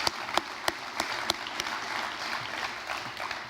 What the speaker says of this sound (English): Let's give Roger a round of applause.